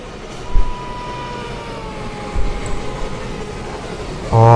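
A passenger train, the 19033 Gujarat Queen, runs in the Open Rails/MSTS train simulator game. It gives a steady rolling rumble with a faint drawn-out tone and a few dull thumps, then a sudden loud rise near the end.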